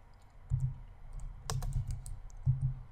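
Typing on a computer keyboard while editing code: a few soft, close clicks and keystrokes in quick clusters, quiet with no talk over them.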